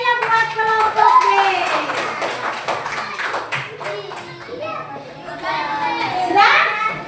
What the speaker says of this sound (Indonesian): Tepuk tangan yang meriah buat kelompok B.